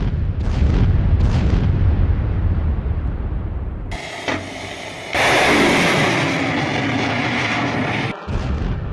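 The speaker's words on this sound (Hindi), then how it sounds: "बैक टू बैक 6 धमाकों से ये इलाका दहल गया।" Six heavy rumbling blasts and roaring bursts in succession in the Russia-Ukraine war, loud and dense with crackling noise, as if recorded from a distance.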